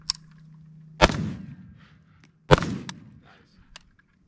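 Two loud, close gunshots ring out at a shooting range about a second and a half apart, each followed by a short echoing tail, with a faint hum and a low voice between them.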